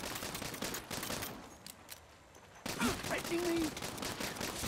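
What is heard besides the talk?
gunfire in Saints Row video game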